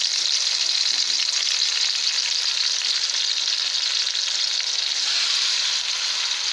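A spiced masala with yogurt sizzles hard in a pan after a little water is poured in, a continuous loud close hiss and crackle with no talking.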